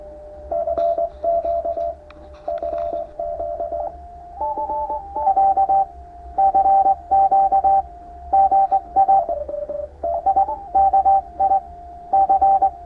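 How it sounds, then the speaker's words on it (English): Morse code tones sent from a phone over Bluetooth to a speaker feeding a ham radio QRP transmitter's PTT line: a steady mid-pitched tone keyed in rapid dots and dashes for several seconds, slightly rough, with no voices. "phone sending the Morse to the speaker by Bluetooth"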